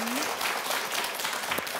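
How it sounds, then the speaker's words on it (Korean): Studio audience applause on a Korean morning talk show after a two-person health lecture, a dense steady clatter of clapping filling the whole short stretch. "두 분에게 큰 박수 좀 부탁드리겠습니다"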